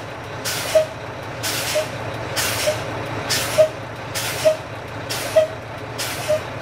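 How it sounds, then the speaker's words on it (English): Truck air brakes hiss as the brake pedal is pumped repeatedly during a pre-trip air pressure check, giving about seven evenly spaced short bursts of released air over a steady idling engine. "Now we will pump the brake pedal and drop the pressure to check low air warning."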